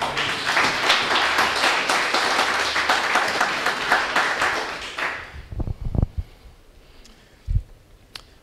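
A church congregation claps hands in praise of the Lord, dense rhythmic applause for about five seconds that then stops, leaving a few scattered thumps and room noise.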